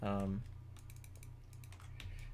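Quiet computer keyboard presses, including the space bar, come as a series of soft, closely spaced clicks after a brief voice at the start.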